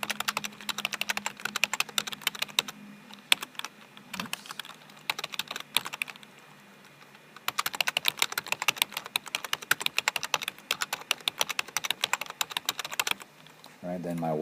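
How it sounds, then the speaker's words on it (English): Numbers being typed into Excel columns on a computer keyboard, a steady patter of fairly close key clicks in bursts with a short pause midway, under occasional quiet background. "So I'm just going to type in my numbers into my columns."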